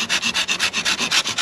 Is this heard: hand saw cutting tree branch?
yes